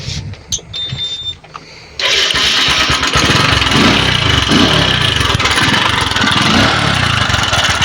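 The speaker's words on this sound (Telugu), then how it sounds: "అది వచ్చేసి టైమింగ్ టెన్షనర్ సౌండ్" A Bajaj Discover motorcycle with a noisy timing tensioner fires up after a few quiet knocks and then idles loudly and close by, with a steady, slightly rattly engine drone filling the rest.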